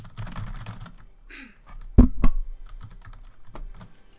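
Rapid clicking of a computer keyboard during Fortnite play, dense irregular key taps close up, with two sharper louder knocks in the middle and a brief tonal sound just before them.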